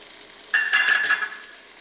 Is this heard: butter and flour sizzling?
yes